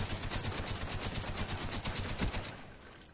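Rapid, dense M60 machine gun fire in Call of Duty Black Ops, a steady rattling stream of shots that cuts off near the end.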